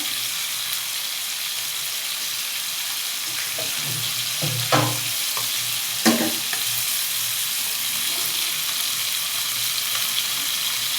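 Pieces of rohu fish fry in a pan with a continuous, fairly quiet sizzle, broken by a few sharper clatters and stirring knocks near the middle.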